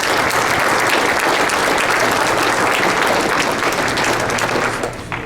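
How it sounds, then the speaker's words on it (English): Loud, dense applause from a banquet audience at a golf coaches association Hall of Fame induction, steady clapping from many people that holds strong before tapering slightly at the end. "Give them a round of applause."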